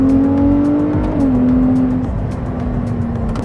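Ferrari 296 GTB exhaust under load on a road, a loud, close, sustained engine tone that climbs with revs, dips briefly at a gear change and then holds steady as the car pulls.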